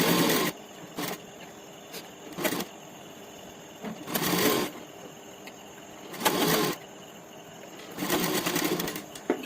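A sewing machine stitches a pocket onto a panjabi in several short bursts, each a close rattling whir separated by quiet pauses.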